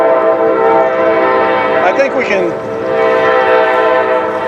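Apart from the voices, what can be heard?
passing train blowing its whistle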